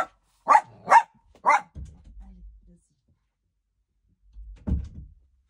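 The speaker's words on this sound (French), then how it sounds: "Je vais aller ouvrir à ma chienne." A pet dog gives three sharp barks close by, followed by low thuds and rumbles of a door being opened for it indoors, then a later knock-like bump.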